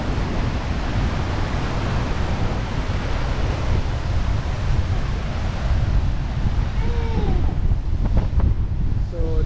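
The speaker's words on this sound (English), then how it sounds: "this river gets 15 meters narrow in this volcanic canyon. So that's how it's made a waterfall." Huka Falls on the Waikato River thunders through a narrow volcanic canyon, a dense, steady roar of rushing water mixed with wind buffeting the microphone, with faint voices near the end.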